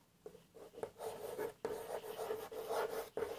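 Third-grade students writing in notebooks during an English class: soft, close scratching of pen or pencil strokes in short bursts, with brief pauses between words, quiet and without talk.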